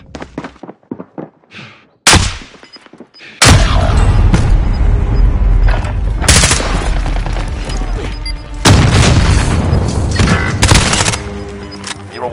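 Gunfire and explosions from the video game Operation OMNI, a few sparse shots at first, then sustained heavy bursts of automatic fire and booming blasts, loud and close with brief pauses between volleys.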